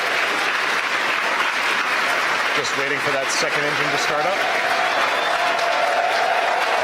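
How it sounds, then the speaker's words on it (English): Crowd cheering and applauding downstairs during a SpaceX Falcon 9 CRS-12 launch and first stage landing, 14 August 2017: a steady roar of clapping and voices under a commentator's continuous talk. "As you can hear from the crowd cheering downstairs"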